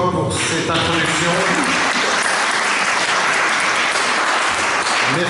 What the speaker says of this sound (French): On applaudit encore une fois pour cette introduction.